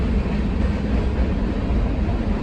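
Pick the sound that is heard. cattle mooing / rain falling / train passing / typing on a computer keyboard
train passing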